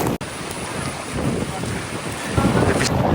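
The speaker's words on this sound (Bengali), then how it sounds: "আমি দেখে যাচ্ছি বৃষ্টি পড়তেছে আর কি" Rain falls steadily at the old Taraganj riverside bazaar on the Shitalakshya river, a dense wash of noise mixed with strong wind buffeting the microphone, louder toward the end.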